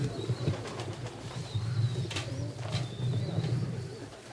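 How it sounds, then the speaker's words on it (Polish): Homing pigeons coo low and steady while wings flutter in short bursts as birds land nearby at a racing pigeon arrival in Łochów, Poland, with a faint high chirp drifting through. "Widzimy kolejnego lądującego gołębia."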